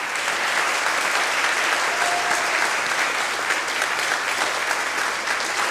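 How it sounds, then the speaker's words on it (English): A congregation applauds steadily during a Sunday worship service, dense clapping sustained at an even level throughout. "let's do one more round of applause for our new roots and new growth"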